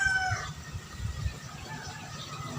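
A gamecock crows once, its call ringing out loud and near at the start, then trailing off into quiet farmyard ambience with low rumbling and faint background noise.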